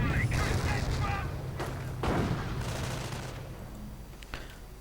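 Battle noise from a WWII real-time strategy game with US riflemen, snipers, a BAR, grenades and anti-tank guns against German forces: dense bursts of gunfire and booms with sharp cracks, while a commentator talks over it throughout.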